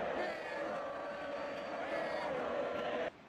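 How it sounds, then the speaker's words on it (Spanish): Stadium crowd at La Bombonera giving a sustained ovation to a Colombian Boca player, a broad, steady roar of cheering and applause that cuts off abruptly near the end. "La gente lo ovacionó al colombiano."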